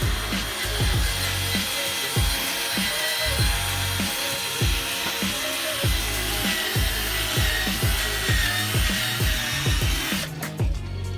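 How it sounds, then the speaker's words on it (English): Power drill fitted with a 3000 grit sanding wheel grinds steadily across a car headlight lens, making a continuous loud whirring rub with a rhythmic pulsing underneath, close up and without talking. "find yourself a power drill with a 3000 grit sanding wheel"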